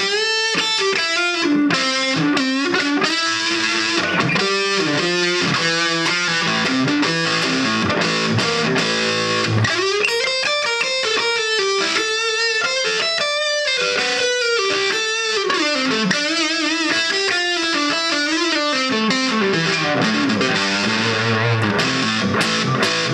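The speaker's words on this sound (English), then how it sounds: "there's a much better distortion sounding than you'd get out of just your basic overdrive sound" A saturated, distorted electric guitar plays a continuous lead melody through a Roland Cube 20XL amp, loud and sustained, with bending notes and no talking.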